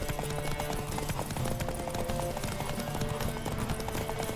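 Rapid hoofbeats from a galloping horse in The Witcher 3 pound on without a break, close and steady, layered over a dense background of game sound.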